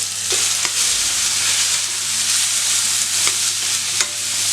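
Cut okra, a quarter kilo, stir-fried in a pan for a spicy masala, giving a steady loud sizzle with occasional spatula scrapes and stirs throughout, no voices.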